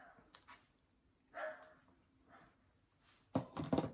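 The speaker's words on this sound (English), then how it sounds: "our dogs are barking in the back" Dogs bark faintly in the background, a few scattered yelps early on, then a louder burst of barks near the end.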